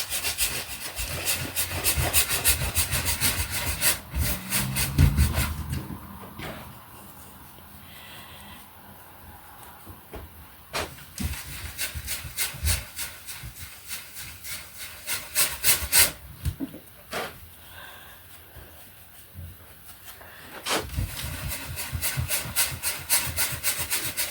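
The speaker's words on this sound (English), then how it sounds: "It's the nature of brushes on canvas to make noise" Dry bristles scrub and rasp against canvas in repeated back-and-forth strokes, loud and close, with a few quieter pauses between bursts of rubbing.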